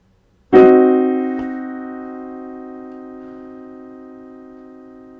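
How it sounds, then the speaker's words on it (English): A single low, sustained trichord analogous to a diminished triad, struck once, its several tones ringing together and slowly fading over several seconds, alone. "this is the trichord that is analogous to a diminished triad."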